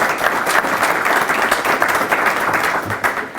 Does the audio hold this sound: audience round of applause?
yes